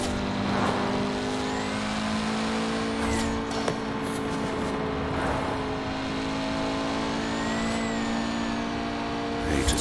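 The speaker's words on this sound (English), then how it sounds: "You just hear that turbo spooling up." A car in Forza Horizon 4 drones steadily under load, with rising whistling tones as the turbo spools up, plus occasional sharper bursts and a faint tire squeal, sustained and fairly loud.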